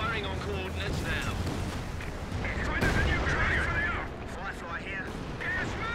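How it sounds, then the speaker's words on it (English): Mortars and artillery firing in Company of Heroes 2, shots and explosions rumbling under a voice, with repeated blasts and crackle mixed with game noise and talking throughout. "White phosphorus, explosives, and flares being fired by mortars now"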